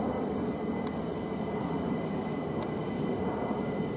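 A train passes through Imperial Wharf station, a continuous rumble of wheels on rail with a faint high squeal and two short sharp clicks, steady and fairly close throughout.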